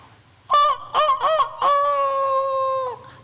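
Loud goose-like honking calls from a fowl, a few short honks followed by one long sustained call, close by and alone with no talk.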